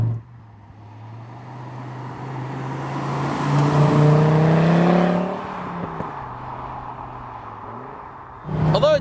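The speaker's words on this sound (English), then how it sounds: "It's got just the right amount of 5-cylinder warble coming through." A Fiat Coupe 20v Turbo's five-cylinder engine warbles while driving, a steady note that climbs under acceleration, eases off, then picks up again.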